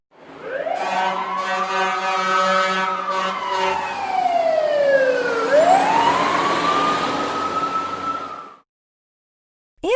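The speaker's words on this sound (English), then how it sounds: "Fire truck." A fire truck siren climbs slowly to a high pitch, holds, then sweeps down and rises again in a long mechanical wail over a low engine rumble, loud and alone, ending abruptly.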